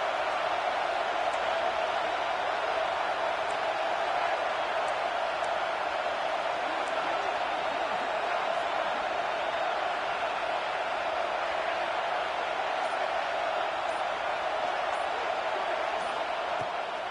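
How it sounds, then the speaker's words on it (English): A football stadium crowd roars steadily for the defense on a third-down play, a dense, sustained wall of cheering and noise that holds at a constant level throughout with no pauses. "Decibels rising as the crowd gets behind this defense on third down."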